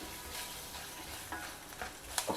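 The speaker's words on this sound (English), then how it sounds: "saute that also along with all the other ingredients" Green chilli, cashew nuts and curry leaves sautéing in a pan, with a soft continuous sizzle and a few light stirring scrapes close by.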